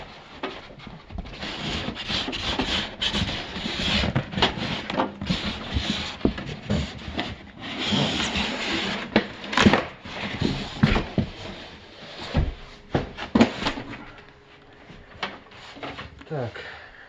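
Parts of a Zubr SR-330-1800 thickness planer being pulled from their box, with rustling packaging, rubbing and scattered knocks and thumps close by, under a voice.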